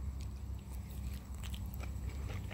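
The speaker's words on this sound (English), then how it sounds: "Let's take a bite of this." A ripe French fig being bitten and chewed up close, with soft wet mastication and faint seed crunches repeating over a low steady background, no talking.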